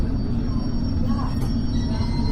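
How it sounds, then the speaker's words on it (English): A steady low rumble and drone of a London Underground Circle Line train in motion near Ladbroke Grove, continuous and fairly loud throughout, with faint squealing overtones. "This is a Circle Line train to Hammersmith."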